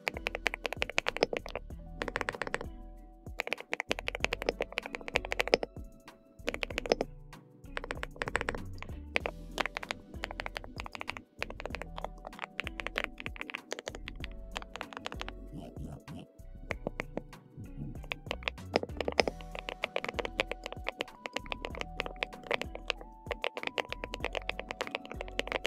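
Typing on an Epomaker Galaxy 100 keyboard with pre-lubed linear switches, a fast continuous stream of close, crisp keystrokes with dense irregular rhythm and occasional heavier thocks, no talking.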